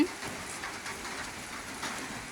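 Steady rain patters on a surface, an even hissing wash of drops that continues throughout without pause.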